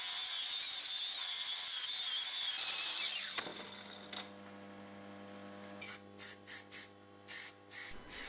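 Filler primer sprayed from an aerosol can onto a restored axe head, a steady loud hiss for about three seconds, then quieter, followed by several short separate bursts of spray near the end.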